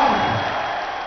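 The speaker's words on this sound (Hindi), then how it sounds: "एक बार फिर पुरजोर तालियां।" Crowd applause at an outdoor political jalsa in Lahore, a dense steady wash of clapping that carries on for the whole brief moment, fairly loud and without talk.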